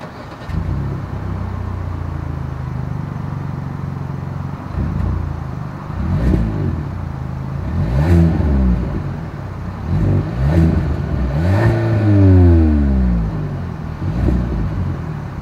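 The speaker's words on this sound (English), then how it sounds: "Here is that exhaust clip." Kia K5 exhaust revving up and settling repeatedly, a loud close rumble that climbs in short bursts over steady idle, with no talk.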